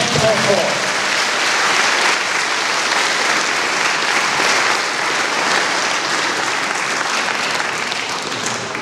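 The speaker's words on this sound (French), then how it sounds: "Et je vous demande avant qu'ils arrivent de les applaudir." A packed UNESCO hall in Paris applauds the arriving performers of the Malian musical Horon, a loud, dense, unbroken roar of clapping that holds steady throughout.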